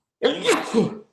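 A single sharp sneeze from a man on a catfishing podcast: a quick intake and then two bursts of release, close to the microphone and loud, lasting under a second with no talk over it.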